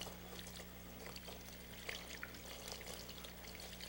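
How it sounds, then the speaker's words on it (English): Cold tap water pours steadily over raw chicken being rinsed before barbecuing, a continuous soft trickling splash with faint low hum underneath and no speech. "I'm using cold water for a purpose, because you don't want to singe it with using hot water."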